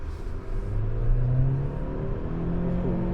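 A 2020 Honda Civic 1.5 Turbo RS car accelerates with a smooth, rising engine whir and road rumble from inside the cabin, steady and moderately loud with no talking.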